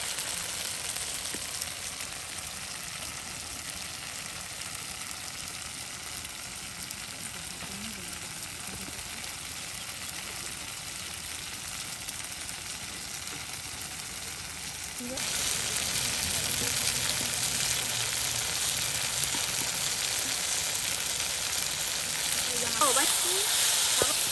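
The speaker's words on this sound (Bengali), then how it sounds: "মাছ ভাজি করা হবে।" Oil sizzles and crackles steadily as fish fries, a constant hiss that grows noticeably louder partway through, with faint voices now and then.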